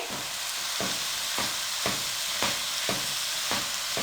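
Vegetables frying in a pan for a sandwich filling give a constant bright sizzle, with regular scraping stirs roughly every half second, near and steady.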